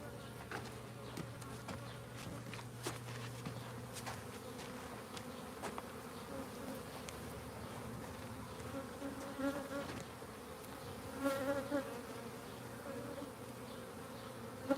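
Honey bees (Apis mellifera) from a West Texas swarm buzz around an open hive, a steady, close, droning hum with individual bees whining past, no talking.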